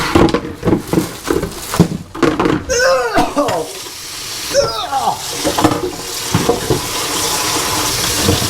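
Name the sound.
washing something under running tap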